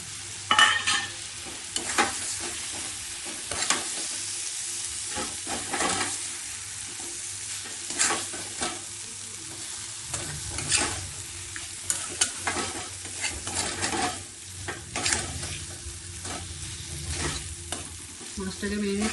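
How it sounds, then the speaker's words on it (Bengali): Fish sizzling as it fries in oil for a Bengali fish curry, a steady close crackle with intermittent stirring and scraping in the pan and no talking. "মাছটা এখন দিয়ে দিচ্ছি।"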